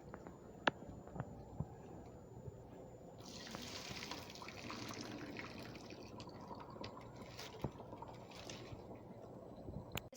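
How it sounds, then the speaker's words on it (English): Water being strained from a pot of cooked rice in a kitchen, a faint, steady pouring and trickling stream with scattered drips and small clinks, heard close and quiet with no talking. "I'm gonna strain all the water out."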